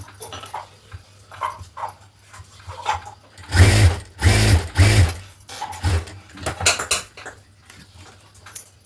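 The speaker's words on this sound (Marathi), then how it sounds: "दाबटीप टाकून घ्यायची." A sewing machine stitches a blouse strip, its motor running in a few short bursts in the middle of a quieter stretch, with light handling and clinking sounds around it.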